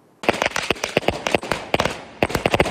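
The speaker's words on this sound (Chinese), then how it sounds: "彩券行前，业者开心地放起鞭炮烟火来庆祝" Firecrackers and fireworks set off outside a lottery shop in Dajia, Taichung, to celebrate a jackpot win: a loud, rapid, irregular string of sharp cracks and bangs with brief pauses.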